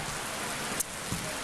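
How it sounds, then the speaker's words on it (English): Steady rain falls outdoors at an airport police facility ribbon-cutting ceremony in Los Angeles, a dense continuous hiss with a couple of brief louder drops or taps, no voices over it. "And yes, the rain has now started."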